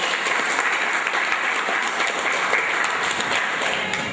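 Steady applause from a crowd at a school lesson presentation, dense and sustained throughout with no talking.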